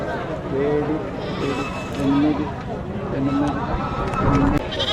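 Repeated bleats of goats rise over busy crowd chatter and talking at the Hukumpeta tribal market near Araku, several calls spaced a second or so apart in a noisy outdoor setting.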